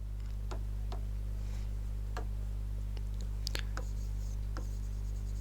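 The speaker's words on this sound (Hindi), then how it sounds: "कुछ एग्जांपल्स लिखता हूं मैं" Examples being written by hand during an English grammar lesson, heard as sparse, quiet taps and short scratching strokes spaced irregularly over a constant low electrical hum, with no talking.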